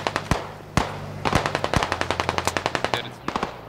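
Rapid automatic gunfire in the video game Squad: two sharp early shots, then a long bursting string of evenly spaced rounds, loud and close, with a brief gap before a few final shots.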